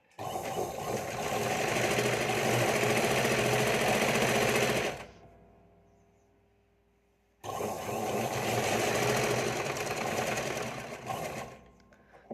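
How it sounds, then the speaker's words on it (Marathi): Sewing machine topstitching the lining of a princess-cut front bodice, running in a steady fast whir for about five seconds, pausing briefly, then stitching on again, close and clear. "असं अस्तर आतमध्ये फोल्ड करून वरतून फिनिशिंग टीप टाकत घ्यायची आहे आपल्याला"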